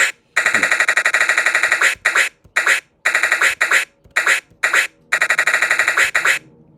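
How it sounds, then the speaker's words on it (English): Rapid glitchy chirping bursts from a PMØS_10a Skratch-Video Sampler, loud and close, chopped into stuttering bursts separated by sharp silent gaps. "the fast chirp sounds much better"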